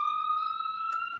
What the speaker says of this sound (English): this ambulance is passing by